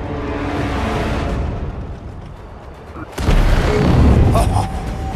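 A torpedo explosion in the Maneater underwater game: a muffled rumble gives way to a sudden loud, deep boom that rolls on for a couple of seconds.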